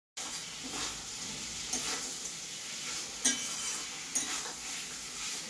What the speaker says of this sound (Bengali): হালকা ভাবে এই মশলার সঙ্গে হালকা আমি এখন কিছুক্ষণ ভাজবো